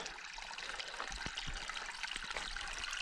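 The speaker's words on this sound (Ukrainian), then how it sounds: "джерельна водичка. Зараз ми її будемо пробувати." Clean mountain spring water in the Carpathians trickling steadily nearby, a continuous splashing flow with a few small gurgles and no voices.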